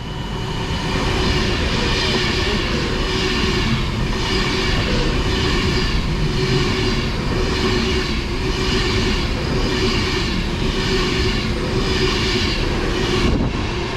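Loud, steady rumble of a train passing close by near London for about fourteen seconds, with rhythmic clickety-clack of wheels over rail joints and a continuous roar of wagons, no talking.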